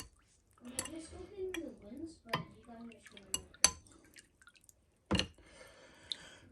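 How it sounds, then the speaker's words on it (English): Baking soda stirred into water in an electrolysis tank: faint intermittent sloshing, drips and clinks of the stirrer against the container, in irregular bursts with quiet gaps. "you do want to stir that in"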